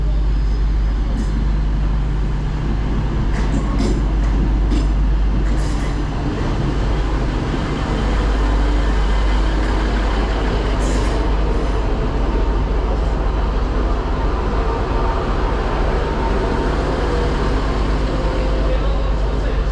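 A Northern Class 150 diesel train, unit 150-222, pulls into a station platform in South Yorkshire, giving a steady loud low rumble and engine drone throughout with a few brighter squeals and clanks over it.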